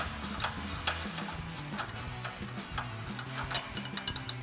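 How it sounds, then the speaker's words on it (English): Repeated clicking of a 10mm ratcheting wrench snugging up bolts on a Barricade HDX hard top roof rack for a Jeep Wrangler JL, a steady close ticking rhythm over a busy background. "I'll take a 10mm ratcheting wrench"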